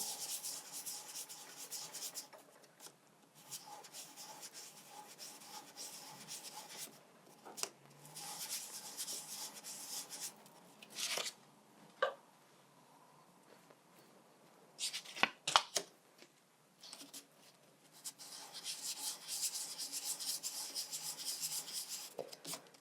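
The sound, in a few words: rubbing wax on sandpaper in figure of 8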